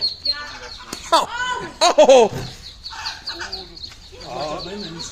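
Ducklings dropping from a ledge at a Lowe's store give high, thin peeping chirps in quick bursts, close by, while people nearby let out short startled exclamations.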